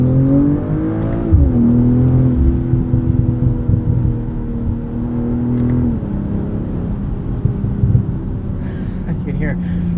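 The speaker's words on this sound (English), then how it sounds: "You can hear some subtle burbles and pops from the exhaust off throttle" A 2023 BMW M340i xDrive heard from the cabin while driving, its engine drone dropping in pitch off throttle with soft exhaust burbles and scattered faint pops under a steady road rumble.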